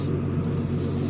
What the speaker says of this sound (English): So now we're just going to spray some clear coat over these two spoons